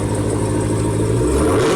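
A Porsche 911 Turbo engine idles with a steady low mechanical hum, then rises slightly toward the end of a short close-up stretch.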